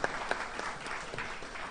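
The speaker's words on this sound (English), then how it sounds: "give them a round of applause" Faint, distant applause from the audience at a secondary school graduation ceremony, a short patter of clapping with a couple of sharper claps near the start.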